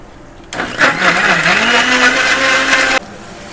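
A mixer grinder whirs loudly and steadily as it blends mutton gravy paste, starting abruptly, running for a few seconds with a slight shift in pitch, then cutting off sharply.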